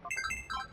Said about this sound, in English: Like the alert tone.